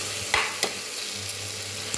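Masala for a prawn gravy sautéing in a pan, a constant close hiss of frying broken by two or three sharp scraping stirs of a spoon against the pan.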